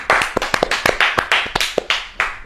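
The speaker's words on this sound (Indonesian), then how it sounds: "tepuk tangan buat Mas Bayu ini." Crowd of people clapping hands in applause for a guest during an Indonesian futsal talk show, a dense run of loud, sharp claps lasting a couple of seconds with no talk over it.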